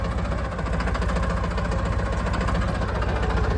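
A tractor engine idles steadily up close, a continuous low, throbbing rumble with an even mechanical pulse and no break for the whole stretch.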